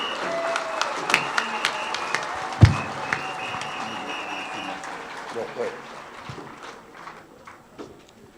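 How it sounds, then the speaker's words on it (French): Scattered applause from an audience at a women's weekend gathering of a youth community in Thiès, greeting priests, with a few sharp claps up front, then thinning into murmuring crowd noise and talk. "Applaudissez-les."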